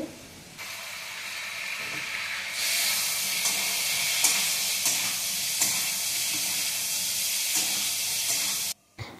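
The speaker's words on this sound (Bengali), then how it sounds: "তারপরে হলুদ দিয়ে নাড়াচাড়া দিয়ে আবারও কিছুক্ষণ কষিয়ে নেব" Green chillies and turmeric frying in a pan, a steady hissing sizzle that jumps louder partway through, with occasional stirring knocks and a brief cut near the end.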